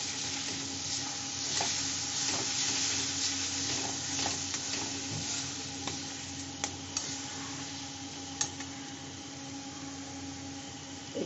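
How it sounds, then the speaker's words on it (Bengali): Spice masala for chicken curry sautés on low heat in a pan, giving a steady close sizzle with scattered light ticks and scrapes from stirring; no voices. "একটু আঁচটা কমিয়ে দিয়ে কষে নিচ্ছি"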